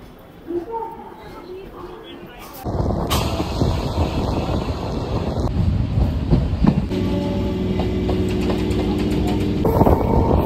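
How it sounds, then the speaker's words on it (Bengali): A passenger train rolling into a station platform, rumbling and rattling loudly with rhythmic clickety-clack of wheels over rail joints, the noise swelling as it draws in and someone speaks over it. "আমাদের ট্রেন ঢুকলো কিন্তু 3 নম্বর প্ল্যাটফর্মে।"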